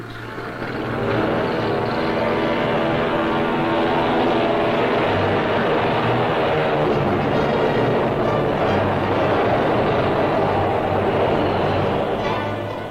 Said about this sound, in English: While airplanes drone their way into the skies.